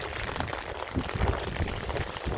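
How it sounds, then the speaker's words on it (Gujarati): Heavy rain pours down in a steady, dense wash of noise, with no let-up across the whole stretch and no voices. "વરસાદ બહુ વધી ગયો"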